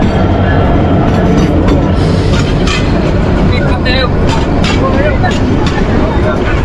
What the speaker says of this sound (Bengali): এটা কি নোয়াখালী ট্রেন নাকি?